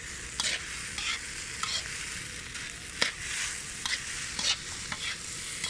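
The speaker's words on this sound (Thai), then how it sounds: "ผัดให้แห้งสัก" Egg fried rice being stir-fried in a pan, with a steady sizzle and repeated scraping strokes of the spatula at a close, moderate level, with no talk.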